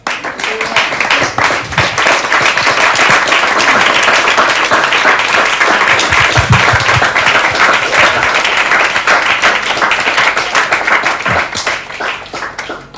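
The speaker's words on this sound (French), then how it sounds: "Est-ce qu'on peut acclamer le Seigneur?" Congregation at a French-speaking church youth day applauding and cheering in praise, a dense, steady wave of clapping that fills the room at full volume throughout.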